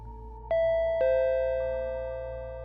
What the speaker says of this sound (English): the door chime rang again